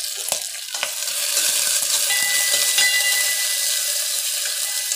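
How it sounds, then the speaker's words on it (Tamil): Mustard seeds splutter and crackle in hot oil in a bronze pot, a steady close sizzle with scattered sharp pops and no talking. "கடுகு நல்லா வெடிக்கட்டும் பாருங்கள்."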